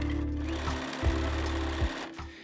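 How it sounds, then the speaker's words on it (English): A sewing machine stitches a pocket onto a tweed jacket in short runs: a close, steady mechanical hum with rapid needle pulses, broken by brief pauses between the bursts. "Okay, I'm just gonna sew it on and we'll see."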